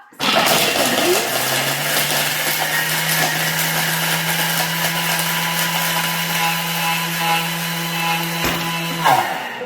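A kitchen food processor at top speed 10 grinds chocolate into powder with a loud, steady whirring drone and a rattling, gritty edge, starting abruptly and cutting off near the end.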